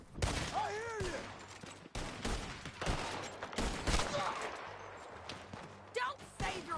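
Gunfire in the Western video game Red Dead Redemption 2, with rapid repeated shots and volleys cracking loudly across the scene amid shouting voices.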